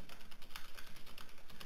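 Enter key and other keys struck on a computer keyboard while working in Microsoft Word, a quick, steady run of about a dozen light clicks close by, with no voices.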